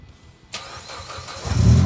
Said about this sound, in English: Evo 10, turn on the engine.